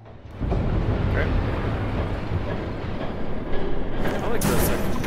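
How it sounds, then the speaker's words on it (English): A train rumbling past in the Batman Telltale video game, a loud continuous roar with rattling clatter that rises suddenly and stays heavy throughout. "There's a train coming."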